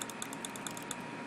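Steady, evenly spaced clicking like computer keyboard typing, heard in The Stanley Parable game, with crisp light taps repeating alone at close range and no voices.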